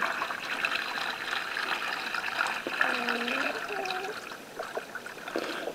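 Steady warm water pouring and trickling into a poultry waterer, with a continuous splashing rush and small gurgles.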